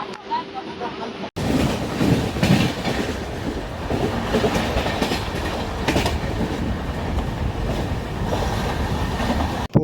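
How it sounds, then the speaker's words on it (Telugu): A Chennai local train rushes past close by with a loud, continuous roar and a clattering rhythm of wheels on rails. The noise stays steady for nearly ten seconds after a sudden start. "ఇలా ఉంటుంది చెన్నైలో లోకల్ ట్రైన్లు."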